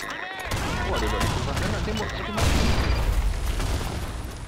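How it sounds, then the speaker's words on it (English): In the online shooter Blackshot, a loud grenade explosion booms amid a dense barrage of gunfire, the blast surging partway through over continuous rumbling combat noise with voices mixed in. "Grenade!"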